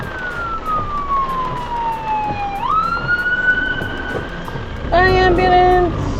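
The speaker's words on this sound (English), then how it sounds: "I think an ambulance is trying to get through." An ambulance siren wails over road noise, sweeping down then rising, with a second, sharper siren tone joining near the end.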